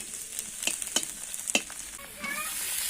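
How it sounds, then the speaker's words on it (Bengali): Cabbage and green chillies frying in a home kitchen. Quiet sizzling runs beneath several sharp spatula taps in the first half, then a steadier frying hiss, with no one speaking. "বাঁধাকপি ভাজা হয়ে গেছে বাঁধাকপি আর কাঁচা লঙ্কা"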